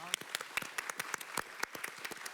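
Scattered clapping from a small audience, a brisk patter of individual claps, fairly quiet and distant.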